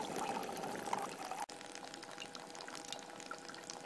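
Rosemary essential oil from steam distillation being poured into a small measuring glass, a steady soft trickle running for a few seconds with a brief break partway through.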